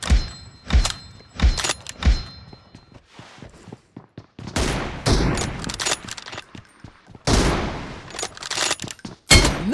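Gunfire in a shooter video game, including M24 sniper rifle shots: sharp, loud cracks, single and in quick clusters, separated by brief quieter gaps and bursts of rapid fire.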